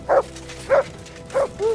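Dog in the Kingdom Come: Deliverance II video game giving four short, close yelping howls in quick succession, each a brief tonal cry with a falling pitch, loud and alone.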